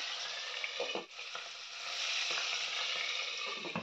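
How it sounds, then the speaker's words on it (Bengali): Koi fish frying in hot oil in a covered pan for Bengali tel koi, giving a steady dense sizzle and crackle with a few louder pops, close and continuous, with no talking. "তেলের মধ্যে সবকটা মাছ আমি ভেজে নেব।"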